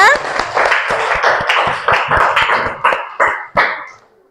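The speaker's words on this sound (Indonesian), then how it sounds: "Tepuk tangan dulu ya" Children clap in a classroom, a dense crowd of quick hand claps running for about four seconds before tapering off, with some voices mixed in.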